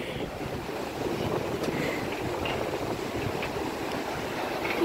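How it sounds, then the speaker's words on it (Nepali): Cold wind gusting strongly beside a river, a constant rushing buffet across the microphone with faint water wash beneath, fairly quiet overall and without voices. "हजु कस्तो हावा चलेको"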